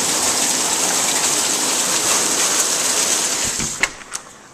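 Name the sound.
hail falling on a car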